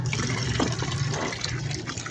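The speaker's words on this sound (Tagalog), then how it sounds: "Makaroon ng tubig dito po. Ito po, gripo." Water runs steadily from a faucet at a car wash, a continuous broadband rush with a low hum beneath, close and fairly loud with no talk.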